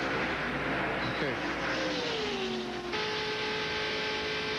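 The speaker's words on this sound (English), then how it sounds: "we've been listening to that 4 car come by the booth here" A NASCAR Winston Cup race car roars past a broadcast booth during a 1995 race, its engine rising and then dropping in pitch as it passes, over the steady drone of other cars and broadcast talk.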